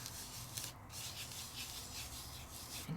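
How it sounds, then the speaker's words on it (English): A fingertip rubs loose craft glitter into sticky adhesive, a steady close scratchy rubbing that continues without pause and with no talk. "rub my finger all around and fill in all those nooks and crannies"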